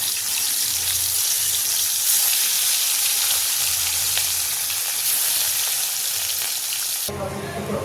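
Fish sizzling and frying steadily in hot oil for a Bengali fish curry, a loud, continuous crackling hiss that stops abruptly near the end.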